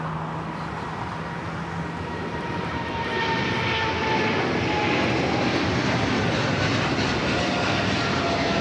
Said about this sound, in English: Heavy 777 departing